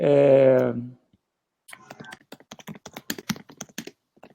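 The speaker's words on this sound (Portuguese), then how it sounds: "Deixa eu ver se ele está digitando alguma coisa." Rapid, uneven clicks of fingers typing on a computer keyboard during a video call, heard fairly close after a short voiced tone at the start fades to silence.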